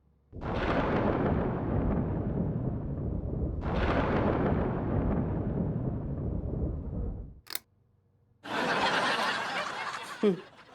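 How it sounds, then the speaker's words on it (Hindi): Two long, loud rumbling cracks of thunder roll out one after another, followed by a sharp snap and another burst of crackling noise. "इतनी जोरों की बिजली कड़क रही है"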